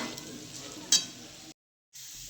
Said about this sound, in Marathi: शेंगदाण्याचं कूट टाकून व्यवस्थित चांगलं हलवून घेतलं